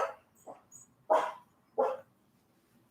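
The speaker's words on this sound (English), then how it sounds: "when they start like barking and running around, she can hear them and then she goes bonkers" Dogs barking in a neighbor's apartment upstairs: four or five short, muffled barks spaced irregularly over a few seconds, moderately loud with quiet gaps between them and faint chirping in the background.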